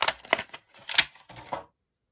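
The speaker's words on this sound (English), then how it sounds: "I'll go ahead and get him out of the plastic." A Star Wars Vintage Collection Scout Trooper action figure is pulled from its plastic packaging, giving a short series of close crinkles and snaps. The sounds stop abruptly after about a second and a half.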